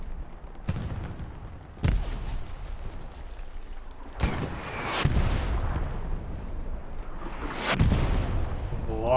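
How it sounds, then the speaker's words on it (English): Artillery shells crash down in a Hell Let Loose match, several heavy booming impacts landing a second or two apart, each with a sharp onset and a rumbling tail over a constant battlefield din. "artillery landing in the middle of them"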